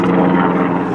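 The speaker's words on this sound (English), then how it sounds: "that noise you're hearing? A helicopter." Military helicopter flying overhead near a campsite, a loud, continuous throbbing roar that fills the whole moment with no voices over it.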